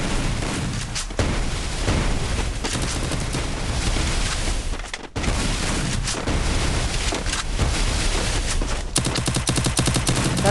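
Dense, rapid gunfire in a shooting video game, with overlapping automatic bursts and blasts that continue almost nonstop, loud and up close, briefly cutting out once before the firing resumes.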